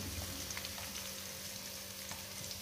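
Cut tempeh sizzles steadily in a pan of oil and a little margarine, a soft continuous frying crackle with occasional pops, faint and close, with no talking.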